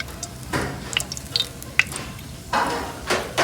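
Cinnamon, cloves and cardamom fry in hot oil for a village-style boneless mutton fry, giving soft sizzling with intermittent scraping and stirring sounds close by.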